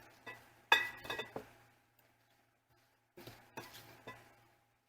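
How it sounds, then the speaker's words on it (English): A spoon stirs onions into a cruciferous kraut mixture in a bowl, giving two short clusters of light clinks and scrapes separated by near silence, quiet and close. "Okay, let's just give this a little stir. Mix our onions in."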